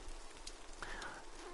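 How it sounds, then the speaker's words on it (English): Falling rain in the video game Dreams makes a soft, continuous hiss of drops on a surface, steady and faint throughout, with a brief higher tone slipping in partway. "The puppet tells the ground it is raining, and that's what triggers the rain."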